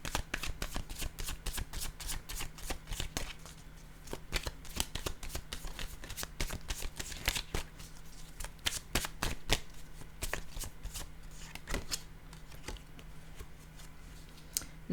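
Oracle cards are shuffled continuously, a steady, rapid riffling flutter close to the listener, soft and unbroken for the whole stretch with no talking.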